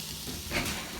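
Chopped celery, carrots and onion hit a hot pan and sizzle with a bright, close frying hiss that flares up partway through, with no one talking.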